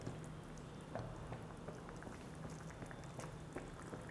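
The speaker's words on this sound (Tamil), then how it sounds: "இப்போ இது ஒரு 45 மினிட்ஸாக அப்படியே லோ ஃப்ளேம்லேயே கொதிச்சிட்ருக்கு" Country chicken curry simmering in a pot over a low flame, a steady soft bubbling and gentle crackle that continues evenly throughout, close and moderately quiet with no talking.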